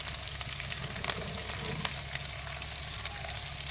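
Curry leaves sizzling in hot oil in a pan over a low flame, a steady close frying hiss with a few small pops and crackles, no talking.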